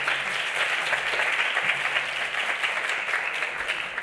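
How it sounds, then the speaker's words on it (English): Applause from a conference audience at an international academic conference, a steady dense wash of clapping lasting the full four seconds without a break, moderately loud and heard alone with no talking over it. "Give a big applause to all of them."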